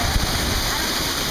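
Water sprays and splashes steadily from a splash feature, a loud broadband hiss like heavy rain that stays constant throughout, with voices faintly under it.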